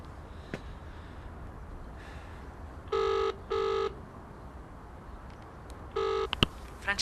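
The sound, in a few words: telephone number being dialed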